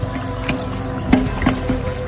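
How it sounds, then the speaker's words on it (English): Canned beans being rinsed under a running kitchen tap, a steady near rush of water with no one speaking. "give your beans a little wash before you put them in your bowl"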